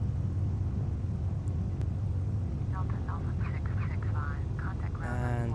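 In a flight simulator game, an airplane rolls off the runway with a steady low engine rumble throughout, while short electronic beeps and tones sound near the end.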